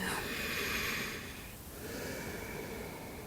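A slow, deep breath in and out through the nose during a yin yoga session: a close, airy inhale followed by a steady exhale, heard alone without talk.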